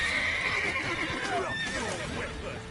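A horse whinnies loudly in The Witcher 3 on PS5, one long, close, wavering neigh with faint hoof clatter beneath it.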